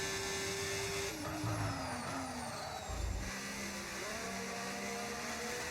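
Ferrari Formula 1 car engine in a racing video game, a high-pitched whine rising and falling steadily as the car pulls out of the pit lane at Bahrain, heard alone at moderate loudness.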